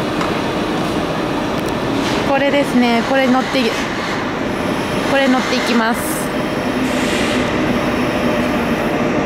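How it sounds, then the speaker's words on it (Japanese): A red passenger train pulls in at Frankfurt Central Station in Germany, a loud steady rumble with squealing brakes and clattering wheels rising twice, while a person speaks briefly over the noise. "わ、来た。赤い列車です。"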